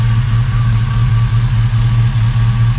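Up close, a bagged C10 pickup with an LS swap and Hooker Blackheart manifolds sits at idle, its exhaust a deep, constant throb that wavers slightly, alone without speech.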